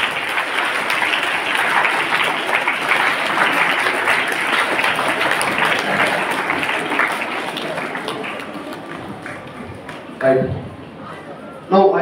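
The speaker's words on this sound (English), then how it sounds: "Let's give a big round of applause to Shafi sir, please." Audience applause welcoming a guest of honour onto a stage: dense, sustained clapping from a large crowd fills the hall for about ten seconds, then thins out, with a brief louder burst near the end.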